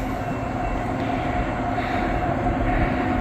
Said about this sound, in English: It's a Norfolk Southern train. Looks like an intermodal.